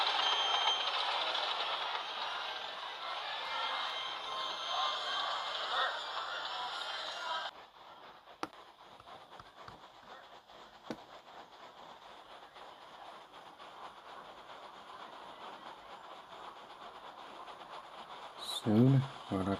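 A heavy goods train rolls along the rails with a broad rushing noise that drops away, leaving quieter rattling and a few clanks, then a brief clatter at the end.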